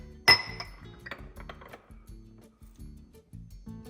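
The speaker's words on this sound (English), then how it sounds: "Now all I'm gonna do is turn this upside down into the crock." A ceramic butter crock is turned upside down and set into its water-filled base: a sharp ceramic clink at the start, followed by a series of softer knocks and scrapes of crockery, close and clear.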